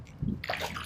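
A kayak paddle splashes the water of Shingle Creek during a morning paddle: one short, close, wet splash and slosh.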